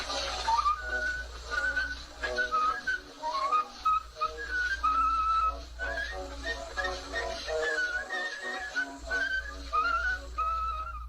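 An 1891 recording of a minstrel song, with a melodic whistled tune running steadily throughout over a dull, hissy old-recording background and low hum.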